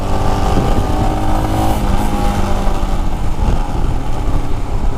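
A Royal Enfield Himalayan BS6 400 cc adventure motorcycle pulls steadily in first gear, its engine drone loud and continuous throughout with wind rush and no breaks.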